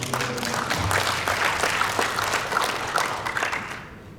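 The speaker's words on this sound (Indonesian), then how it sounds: "Tepuk tangan dulu buat semua." Audience applause at a provincial higher-education leaders' working meeting in NTT, steady broadband clapping from a sizable crowd that holds for about four seconds before thinning out, with some murmuring voices underneath.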